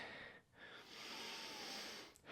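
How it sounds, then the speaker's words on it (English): Slow breaths drawn in and pushed out through the nose during a rest in a workout, soft and close, with a brief pause between an inhale and a longer exhale. "focus on breathing in and out through your nose"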